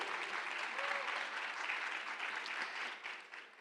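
A crowd at a business forum panel in Barranquilla applauds steadily for several seconds, a dense patter of clapping that tapers off slightly at the end.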